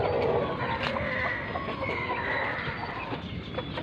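Young tailless rooster (stag) clucking on a Filipino backyard farm, a close, steady run of throaty clucks with other fowl and outdoor noise around.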